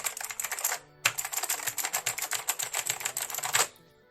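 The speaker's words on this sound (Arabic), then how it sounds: "صوت الكيبورد عالي جدا" Rapid typing on a loud AULA gaming keyboard, dense bursts of sharp clacky keystrokes close up, with a brief pause near the start and a sudden stop at the end.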